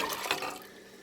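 About four cups of water poured onto dry pinto beans in a cooking pot, a brief close splashing rush that fades within a second.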